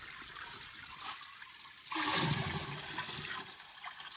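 Fresh cow urine pours into a jeevamrut mixture, a faint watery trickle that swells into a brief splashing gush near the middle and then eases back to a soft dribble, heard alone and quiet.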